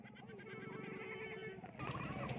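Rajanpuri goats bleating at a livestock market in Dera Ghazi Khan, several close, loud wavering calls overlapping in a continuous stretch with no talk.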